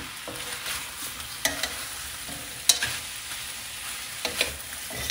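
Chinese sausage and shiitake mushrooms sauté in a pan with a steady, close sizzle, broken by occasional scraping and clinking as a utensil stirs them.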